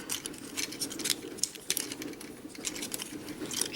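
A plastic Transformers Combiner Wars Prowl toy is twisted and transformed by hand, producing quiet, irregular clicks and snaps of plastic parts against a soft background.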